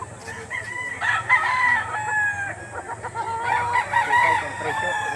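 Several roosters crow repeatedly at a gamefowl auction market in Lipa, Batangas, with Penny Black birds on offer. Overlapping crows ring out close by over a steady crowd murmur, and someone talks throughout.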